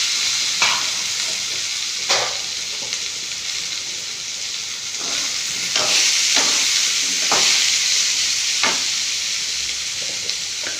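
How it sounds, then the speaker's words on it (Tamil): Dried red chillies fry and are stirred in a pan in a home kitchen, with a steady close sizzle broken by repeated scraping strokes of the spoon, and no talking. "வாழைக்காய்க்கு வத்தல் பொரிக்கணும்."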